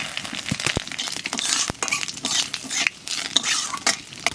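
Cumin seeds and bay leaves sizzle in hot cooking oil as a spoon stirs them, the steady frying hiss broken by scraping strokes and a few metallic clinks against the pan.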